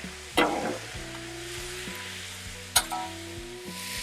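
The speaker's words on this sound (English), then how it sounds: "One last thing I'm going to do is get a little bit of garlic going here as well." Garlic fries in bacon grease on a Blackstone griddle, a soft continuous sizzle with two sharp clatters of the utensil, heard alone without talk.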